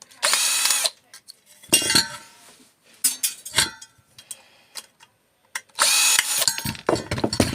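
Power tool unscrewing a part from a microwave being taken apart for recycling: several short bursts of whirring drill noise separated by pauses, with metallic clinks and rattles from the parts being handled up close.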